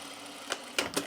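Short bursts of a sewing machine stitching the first pass of a French seam, three quick rattling runs separated by brief pauses, close and moderately quiet.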